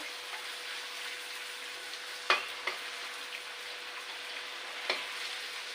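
Fuchka puris fry in hot oil, a low even crackle and hiss with occasional brief clicks from the pan or spoon, steady and close with no talking.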